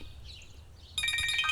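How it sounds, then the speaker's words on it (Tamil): A phone rings with an incoming call in a dubbed Tamil horror film, a bright, rapidly trilling electronic ring that starts partway through and holds loud and steady after a quieter stretch with no talking. "இவன் எதுக்கு இப்ப ஃபோன் பண்றான்?"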